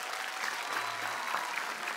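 Studio audience at a televised singing competition applauding steadily, a dense, even spread of clapping that continues throughout at a moderate level.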